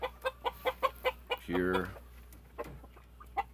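Blueface Aseel-cross chickens on an American chicken farm, clucking in a steady series of short, fairly quiet calls, with a longer drawn-out call near the middle and a brief word spoken.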